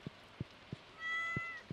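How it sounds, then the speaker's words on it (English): A cat in a video game gives one short, clear meow, quiet and close, while rain in the game patters in soft, evenly spaced drops. "Pet the kitty."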